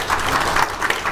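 Applause at a meeting of a Seoul redevelopment association, a dense crowd of hands clapping steadily and fairly loudly, alone without talk.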